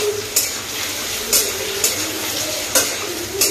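Onions for a soybean curry fry loudly in a close pan with a steady crackling sizzle, broken by four sharp scrapes of a spatula stirring at roughly one-second intervals.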